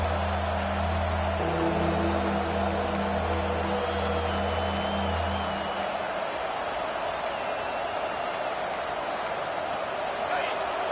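Home crowd at a football game roaring as the defense faces 3rd down, a steady, loud crowd din throughout with a rise in cheering, partly under an announcer's voice early on.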